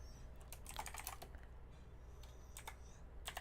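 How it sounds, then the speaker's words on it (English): Someone typing an email on a computer keyboard, with quiet irregular bursts of key clicks separated by short pauses, close and soft over a low background hum. "While I'm typing this email"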